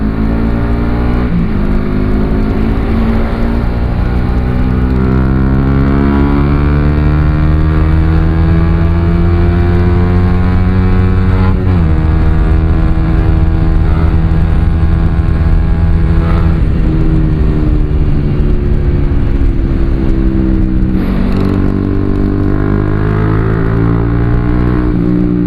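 A 3Tech Tridente F19 Thunderhawk aftermarket motorcycle exhaust drones loudly and continuously, its pitch rising and falling through several revs, recorded close with no speech.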